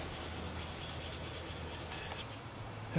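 A small knife blade is rubbed over a medium-grit sharpening stone with a steady, soft, continuous scraping that stays close and even for a few seconds.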